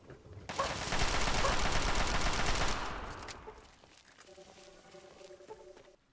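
Sustained automatic gunfire from the Fallout 3 DLC, a dense rapid burst lasting about two seconds, then fading into quieter game ambience with a steady tonal hum.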